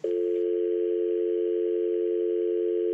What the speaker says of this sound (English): That's a dial tone